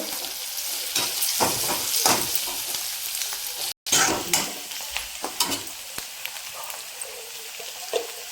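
Onion sautés in a pan until golden: a steady close sizzle of frying with repeated scraping stirs of a spoon and one brief dropout midway.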